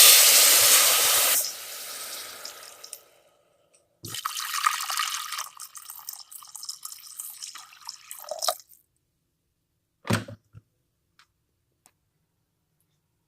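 Water poured into a pot for mushroom soup, a broad splashing gush for a couple of seconds, then a longer bright pouring stretch, followed by a short splash and a few faint drips; no talking.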